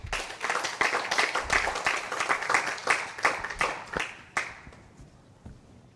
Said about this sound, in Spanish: Me den un aplauso al Señor